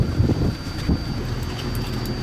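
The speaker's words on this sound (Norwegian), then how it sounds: "Det blåser litt grann." Wind blowing at sea off Træna on the Norwegian coast, heard as a constant low rumble and buffeting against the microphone, with faint boat and water noise beneath and no voices.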